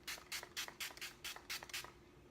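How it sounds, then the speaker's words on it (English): A handheld face mist bottle gives about eight quick, soft hissing spritzes in an uneven rhythm, close and quiet, with no talking. "Forgot to spray my face."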